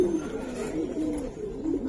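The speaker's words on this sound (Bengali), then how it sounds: "পাথর চোখের কবুতর। হ্যাঁ, এই যে দেখেন" A stone-eyed Giribaz pigeon coos in low, continuous warbling tones, close by and fairly steady, with no talk over it.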